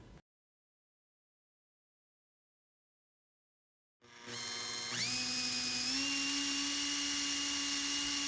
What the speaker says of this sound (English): Let's attach this magnet to the drill and see if we can measure the speed of the chuck.